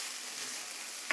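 Taro pieces fry in hot oil with cumin seeds, a steady close sizzle of stir-frying filling a brief moment, with a small knock of the utensil at the very end.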